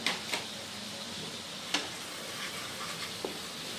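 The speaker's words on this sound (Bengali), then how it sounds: "1 টেবিল স্পুন ধনে গুঁড়া, 1 টেবিল স্পুন জিরে গুঁড়ো। মশলা দুটোকে ভালো করে কষিয়ে নিতে লাগবে।" Ground coriander and cumin fry in oil for a pabda fish and mustard curry, giving a faint, steady sizzle broken by a few sharp clicks of a stirring spoon.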